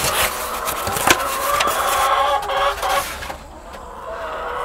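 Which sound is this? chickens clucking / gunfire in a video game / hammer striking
chickens clucking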